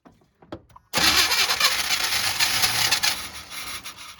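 A 1990 Chevy truck engine cranks, with a few faint clicks and brief turns at first, then fires into a loud, rough running roar that carries on to the end, close by.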